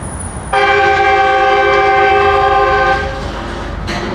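A loud, sustained train horn blares for about two and a half seconds over background street rumble in Etobicoke, Toronto, then cuts off, leaving a brief fainter tone.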